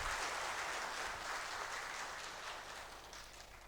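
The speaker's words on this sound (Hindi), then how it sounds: "हम सभी फिर से एक बार बहुत अच्छी तरह से ताली बजा के दीदी का स्वागत करते हैं" An audience claps steadily and loudly at a Brahma Kumaris gathering in Bhubaneswar, welcoming a guest speaker; the dense applause fills the whole stretch and tapers only slightly toward the end.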